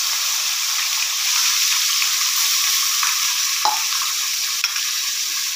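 A paste of onion, tomato and coriander roasts for chole, giving a steady, close, bright sizzle throughout with a couple of faint utensil ticks near the end and no voices.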